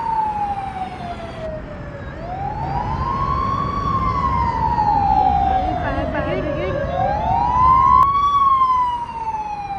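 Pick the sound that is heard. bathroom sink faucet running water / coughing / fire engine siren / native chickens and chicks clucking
fire engine siren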